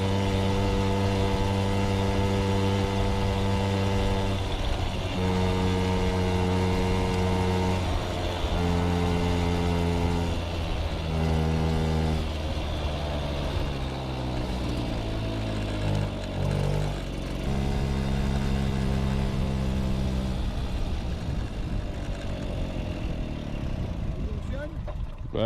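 A Mobyx moped with a fixed variator and no clutch, restarted after more than 40 years, idles a little low with a steady, close engine drone whose pitch dips and shifts midway, while people talk over it.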